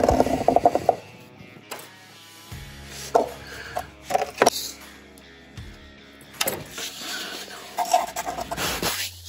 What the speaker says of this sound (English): we got 9/16 wrench here. We're gonna back this off.